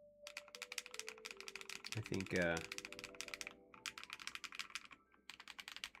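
Crisp, high-pitched keystrokes on an ASCII-F top-mount keyboard fitted with HMX EggYolk switches clatter in quick bursts close by, broken briefly by someone speaking a few words.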